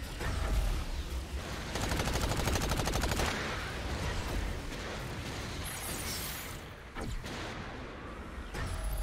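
Dense video game gunfire from Agents of Mayhem crackles in rapid automatic bursts, rattling continuously with blasts and impacts mixed in, steady and busy over the whole stretch.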